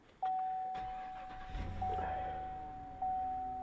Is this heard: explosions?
no